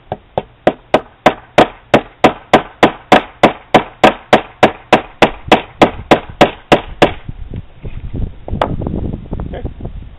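A hammer taps a copper pin through a piece of homemade micarta, about twenty sharp, loud, evenly spaced strikes in a steady rhythm, followed by softer rustling and handling noise.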